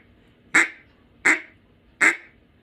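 Three short, soft quacks blown on a Matt Pierce small bore mallard duck call, evenly spaced and clear, each a brief nasal burst imitating a mallard, close with no talk.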